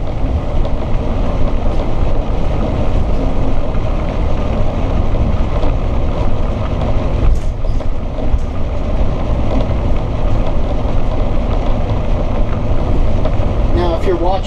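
Steady, loud road noise and engine drone from inside a 2020 Georgetown gas motorhome cruising back roads at about 37 mph, continuous rumble with wind noise throughout.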